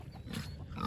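Pigs on a farm grunt as they are given apples, short low grunts close by within a single second.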